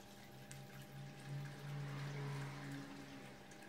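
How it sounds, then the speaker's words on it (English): Garden water feature running and played back sped up, a constant trickling, pouring wash of water with a faint pump hum underneath, quiet and steady with no speech. "you can hear the water feature, but it's sped up."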